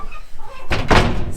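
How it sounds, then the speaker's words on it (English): A camper truck door swings shut with a solid slam, preceded by a brief scrape, one close loud impact followed by a short rattle. "Let's close the door."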